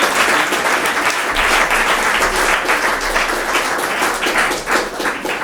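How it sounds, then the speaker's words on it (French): Steady applause from a cabaret audience, dense clapping that holds at an even level throughout with no pauses. "Vous pouvez les applaudir."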